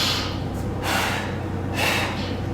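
Two loud breaths, a sharp inhale and a forceful exhale, from a person doing a reformer Pilates exercise in a beginner home workout, close and unvoiced over a low steady hum.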